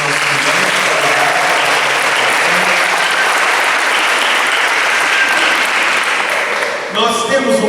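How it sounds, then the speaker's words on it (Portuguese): A church audience at a religious talk breaks into loud, sustained applause that fills the room, tapering off near the end. "palmas para os nossos irmãos"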